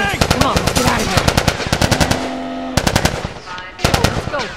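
Rapid automatic gunfire erupts in a firefight in The Last of Us, loud close bursts of rattling shots that stop briefly and then resume, with a short tonal sound in the gap.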